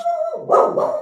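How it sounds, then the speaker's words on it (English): A dog barks and yaps in a short, loud burst of two close barks, heard indoors over a live broadcast setting with no talk during the barking. "That's my dog. He doesn't like it either."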